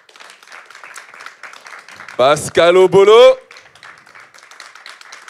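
Light, steady clapping from a round-table audience continues throughout, briefly covered by a loud announcer voice speaking over it in the middle.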